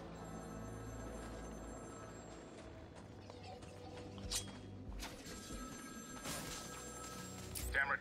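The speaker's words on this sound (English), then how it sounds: "Uh-oh. A phone." A telephone rings inside Batman: Arkham City, a repeating electronic bell tone layered over game music and ambient noise, steady and moderately loud through the stretch.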